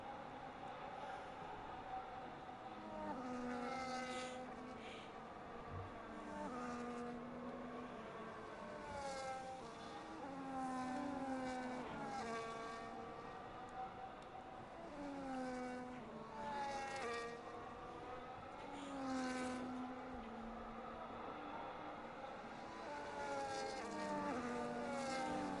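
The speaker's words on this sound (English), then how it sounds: "Got our drivers warming up their tires." Formula 1 race cars on warm-up laps in an F1 racing video game at the USA race, engines whining and rising in pitch as cars pass in overlapping waves, steady and continuous throughout.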